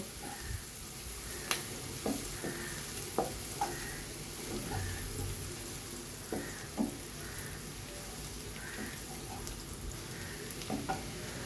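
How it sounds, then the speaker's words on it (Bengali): Onions fry in oil until browned for Dhaka-style beef biryani, a soft, steady sizzle broken by scattered clinks and scrapes of stirring, fairly faint and with no talking. "পেঁয়াজটা আমি ব্রাউন কালার করে একটু ভেজে নেব"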